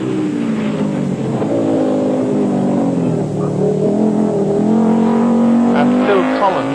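A Volkswagen Golf rally car, trailing a little smoke, races flat out on a 1987 Circuit of Ireland rally stage with a loud, sustained engine roar that rises and falls through gear changes, while a commentator talks over it.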